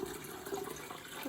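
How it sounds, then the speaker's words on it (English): Cold tap water running into a large bowl, a continuous close splashing rush with no pauses. "prepare a large bowl with 2 litres of cold tap water"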